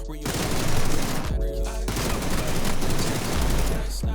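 Rapid automatic weapon fire from a first-person shooter video game, dense sustained bursts broken by brief pauses, loud and close.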